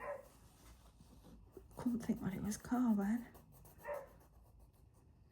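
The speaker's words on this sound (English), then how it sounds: "She's just sat in the garden barking at absolutely nothing." A dog barks a few times close by in a garden, mixed in with someone talking over it.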